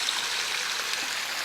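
Creek water runs out of a pond in a soft, continuous trickling rush, faint and steady with no voices.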